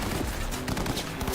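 Video game gunfire fills a short burst with rapid, dense shots that stay loud and continuous from start to finish.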